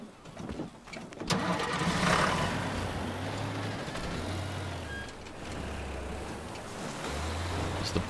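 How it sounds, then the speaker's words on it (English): A bulldozer engine starts up in the demolition video game Teardown, cranking over and then settling into a loud, steady low rumble that keeps running, with slight shifts in pitch. "Bulldozer."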